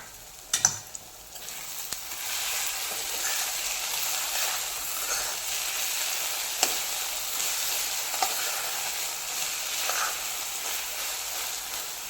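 Shrimp kharda being stirred in a pan over a low flame, a soft steady sizzle with occasional sharp clicks of the spoon against the pan, no voices.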